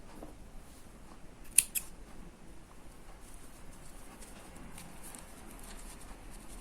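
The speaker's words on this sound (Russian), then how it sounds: "Ниточку закрепляю и обрезаю." Scissors snip through yarn thread after finishing off a crocheted toy bull, two quick close clicks against a faint hiss of background noise.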